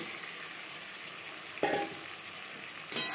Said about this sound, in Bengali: মিডিয়াম টু লো ফ্লেমে 4-5 মিনিট মশলা বেশ ভালো করে কষিয়ে নেওয়ার পর দিয়ে দেবো পটল।